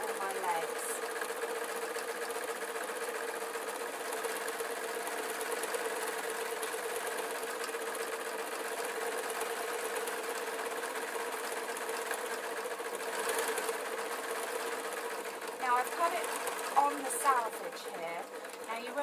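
A sewing machine runs along the top seam of a spider soft toy's body, giving a steady, continuous motor whir with a few louder clattering bursts toward the end.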